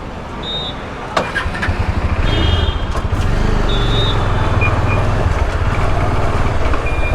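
A car is driven at a steady pace, its engine and road noise a constant loud rumble throughout after a brief quieter start, with faint clicks and a high whine now and then.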